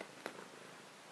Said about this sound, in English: don't know if you can hear her purring, but it's pretty loud.